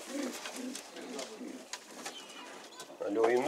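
Pigeons cooing softly in a loft, low repeated coos near the end of the clip, with someone talking over most of it in the foreground.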